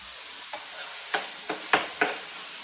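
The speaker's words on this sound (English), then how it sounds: "I'm going to go ahead and add in like the, pumpkin and also the potato" Chunks of pumpkin and potato drop into a pan of frying pork and get stirred, giving a soft sizzle under a handful of crisp spoon scrapes and clicks spaced about half a second apart.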